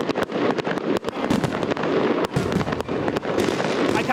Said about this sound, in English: I can't be interested in the fireworks.